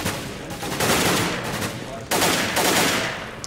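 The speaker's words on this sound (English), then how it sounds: "Lots of pre-firing." Rapid bursts of gunfire from pre-firing in CS:GO on the de_mirage map during a LAN finals match, dense volleys in two main clusters, loud and close.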